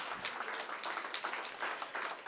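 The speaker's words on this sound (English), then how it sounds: "Let's give them a round of applause." Audience applause at a Bushwick Book Club show in the City of Orange, a steady wash of many hands clapping, moderately distant and fairly even, with no talking over it.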